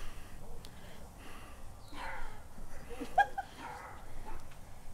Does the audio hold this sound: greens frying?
no